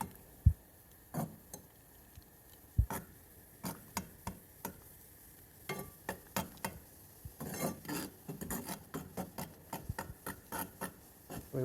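Potato flakes and agar ingredients being stirred into hot water in a pot: scattered sharp clicks and scraping taps of a utensil against the pot, irregular and close, growing busier toward the end, no talk.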